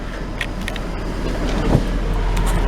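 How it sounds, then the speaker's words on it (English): Ford Police Interceptor Utility HVAC blower on full high, a steady close broadband rush of air that stays even throughout, with faint clicks and no voices. "I've got the blower on full high"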